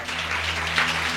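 A church congregation claps during a sermon, a brief, fairly faint wash of hand claps over a low steady hum.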